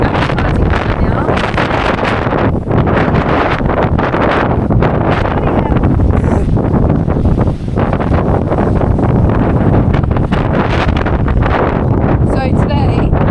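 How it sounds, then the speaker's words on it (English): Strong wind buffeting a beach campsite on the coast, a loud, unbroken roar of gusts battering the microphone, with a voice speaking faintly beneath it. "So, this is the wind."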